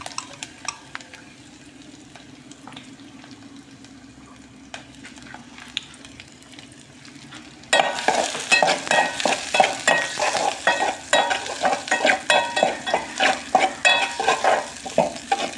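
Saluyot, alugbati and okra are stirred together in a pan, starting with quiet scattered clicks, then turning into loud sizzling with rapid rhythmic scraping and clanking of a utensil against the pan.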